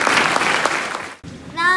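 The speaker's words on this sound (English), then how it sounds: "Let's give the B team a round of applause for their outstanding win." An audience at a school public-speaking event claps for a winning volleyball team, a short dense burst of applause that cuts out abruptly and then resumes.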